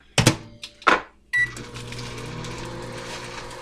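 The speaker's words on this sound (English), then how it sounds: "Microwave until it's nice and melted." A microwave oven in a home kitchen hums steadily after a couple of beeps and the door closing, melting butter mixed with garlic, dried Italian seasoning and parsley.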